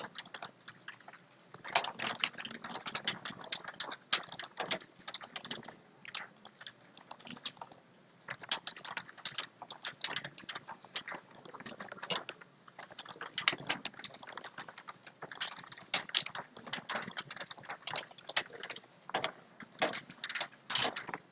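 Computer keyboard keys clattering in quick irregular bursts while someone fills out a business page form, close and fairly quiet, with short pauses between runs of typing and no talking.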